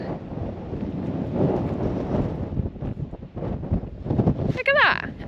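Strong wind buffets a microphone outdoors on Dartmoor, with gusty low rumbles rising and falling while a voice talks intermittently through it.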